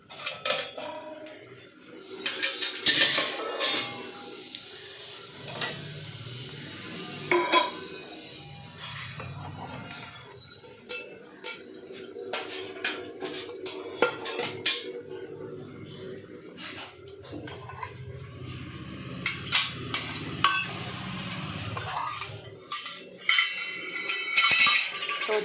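Metal dishes and cutlery clink and clatter in a home kitchen as a tiffin box is packed, with irregular bursts of clanking spread across the clip at moderate loudness.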